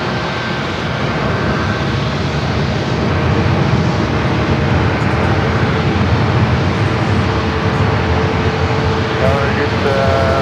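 A fixed-wing airliner on arrival at San Diego airport, its loud jet engine roar holding steady and close for the whole stretch.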